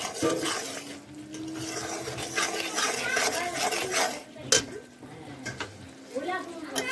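Hilsa fish cooks in mustard paste on a home stove while a utensil stirs and scrapes against the pot, clattering close by under continuous talk with a brief sharp clink midway.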